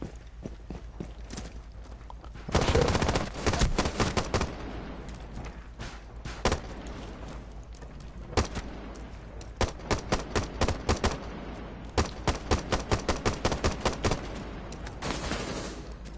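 Video game gunfire with bursts of rapid automatic shots and single cracks in clusters across the clip, loud and close, recoil-heavy, with no talk over it.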